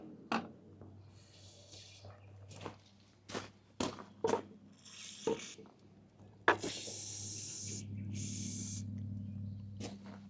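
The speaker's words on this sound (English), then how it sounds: "I'm going to spray the brake clean in there" Brake cleaner sprays in short hissing bursts onto a seized excavator pin, several quick spurts and then a longer blast, with clanks and shuffling in between and a low hum underneath.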